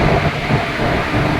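The Madurai–Guruvayur Express train gives off a loud, dense rumble and rushing roar up close, steady and unbroken across the moment.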